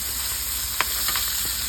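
Miki bihon noodles with shrimp and liver frying and being stirred in a pan, giving a steady sizzle with a few soft scrapes of the utensil, close and moderately loud, with no voices.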